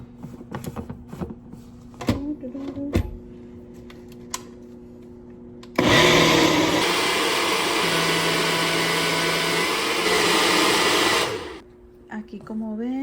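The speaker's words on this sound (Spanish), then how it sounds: "A licuar, se ha dicho." A kitchen blender whirs steadily for about six seconds while blending atole thickened with cornstarch, starting abruptly and stopping sharply, with clatter and small handling noises before and after.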